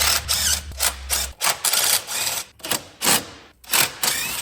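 Bolts come off a valve cover on a brick-nose Ford F150 truck engine, heard as repeated short bursts of ratcheting tool noise with brief pauses between them, close and fairly loud, with no talking.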